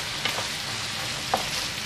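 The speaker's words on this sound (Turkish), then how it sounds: "Etlerim kavrulmaya devam ederken içerisine 2 adet kabukları soyulmuş domatesimi de" Julienned meat sautéing in a pan with two peeled tomatoes, a steady soft sizzle with a couple of brief stirring clinks, close and continuous.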